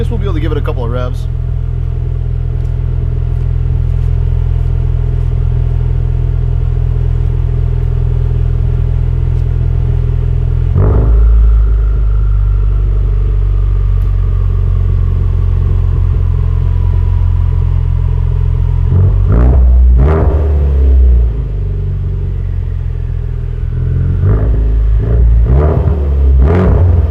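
A Ford Focus RS with an AWE Track exhaust rumbles at a steady idle, then is blipped for a few sharp revs near the end, the exhaust note loud and close with speech audible over parts of it.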